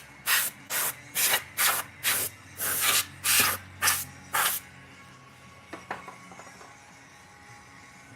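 An airbrush sprays primer onto a bulldog skull in about nine short, even hissing bursts, close and loud, then stops, leaving low background hum and a few faint clicks.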